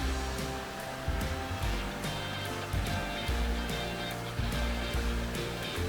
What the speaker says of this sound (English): So nice sound from water.